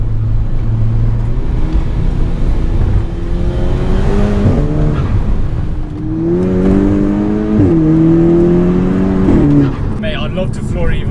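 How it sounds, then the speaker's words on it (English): A 350 BHP GTI on a road in launch mode, engine droning loud and close throughout with rising and falling revs as it pulls hard, over steady road roar while someone talks. "I'd love to floor it even more here, but I need to be able to brake because this car is too fast"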